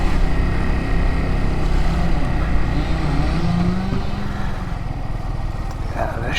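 A Yamaha SR 125 motorcycle rides along with a steady, loud single-cylinder engine drone and wind noise throughout, the engine note dipping slightly near the end.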